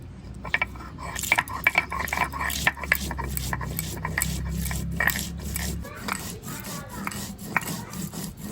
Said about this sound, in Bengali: কাঁচা লঙ্কা পাকা লঙ্কা জিরে এবার আমি বেটে নিচ্ছি